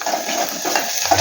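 Curry being stirred in a pan while onions and green chillies fry, a short steady sizzle with light utensil scraping, close and fairly loud.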